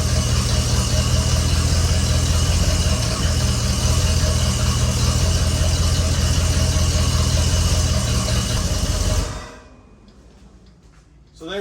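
A 1967 Ford Country Sedan V8 idles steadily after warm-up, a loud, even rumble with a faint squeal that continues for several seconds before the engine shuts off abruptly, leaving quiet rustling.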